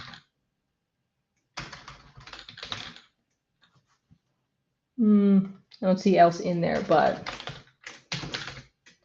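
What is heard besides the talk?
typing on a computer keyboard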